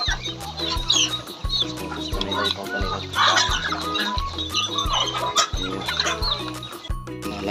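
Chickens cluck nearby in short repeated bursts, with a person speaking over them.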